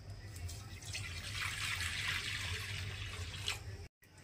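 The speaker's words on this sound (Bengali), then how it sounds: "কড়াতে জল দিয়ে দিচ্ছি।" Water pours and trickles into a wok set on a lit cooking stove while steamed rui fish is prepared, a steady splashing stream with faint drips heard close up and alone.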